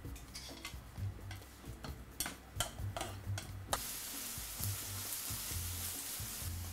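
Onion and garlic sautéing in a pan over medium-low heat, with steady bright sizzling that swells after a few seconds, broken by intermittent taps and scrapes of a utensil stirring.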